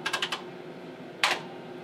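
Keys tapped on a Tektronix 4051 computer keyboard: a quick run of four crisp clicks, a pause, then one louder keystroke, close and alone.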